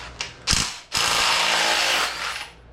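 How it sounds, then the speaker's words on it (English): A ratchet socket wrench loosens engine bolts on a Yamaha YZ125 motorcycle during a teardown, a few short ratcheting bursts followed by a longer continuous close-up clicking rasp that fades at the end. "I'm just trying to take these bolts off."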